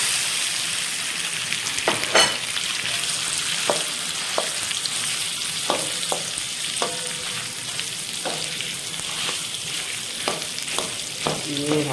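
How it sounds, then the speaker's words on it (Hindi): Peas tipped into browned garlic-ginger paste in hot oil, frying with a steady sizzle and several sharp stirring scrapes spread through the pan, close and moderately loud with no talk. "ये लहसुन अदरक का पेस्ट है ब्राउन हो गया और अब हम इसमें डालेंगे मटर।"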